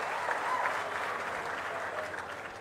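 An audience at a district Swachh Andhra event with the Chief Minister breaks into loud, sustained applause, a dense even patter of clapping holding steady throughout with no speech over it.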